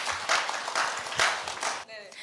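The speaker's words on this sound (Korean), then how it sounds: "이다은 학생 네, 박수 부탁드립니다" An audience at a Korea University speech contest applauds a student speaker in a steady wash of clapping with periodic louder swells, which then cuts off abruptly and gives way to a brief tonal sound.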